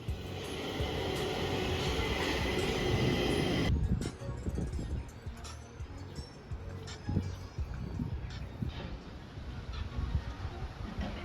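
A Stockholm Metro train rumbles loudly, then the roar drops as it slows, followed by clattering, clunks and mechanical noises of the station.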